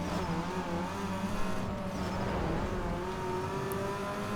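Modified Mazda Miata launching at a drag race in NFS Underground 2, engine revving hard with a rising whine, steady and close.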